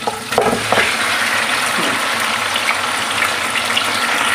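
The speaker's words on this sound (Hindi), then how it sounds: "हमने इसको अच्छे से फ्राई करना है तकरीबन 5 से 10 मिनट।" Beef paya pieces sizzle and crackle in hot oil in a home kitchen, a loud steady frying hiss with a few stirring knocks near the start.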